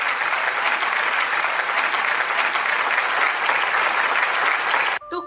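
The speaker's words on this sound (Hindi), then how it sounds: "तो आइए तालियों की गड़गड़ाहट से इन बालकों का प्रोत्साहन बढ़ाएं।" A school annual day audience gives children's play performers a dense, steady wall of applause that holds for about five seconds, then cuts off abruptly.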